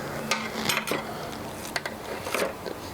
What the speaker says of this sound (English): I put 2 tablespoons of coconut oil into the pot. It's going to be a very quick browning of the lamb.